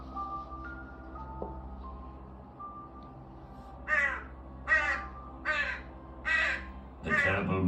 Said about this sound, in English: The terrible Morrigan, the shape-shifting goddess, flew out of the cave in the form of the scald crow